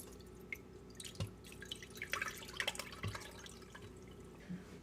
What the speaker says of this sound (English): I'm just straining it through a coffee filter now because some of the petals passed through the mesh strainer.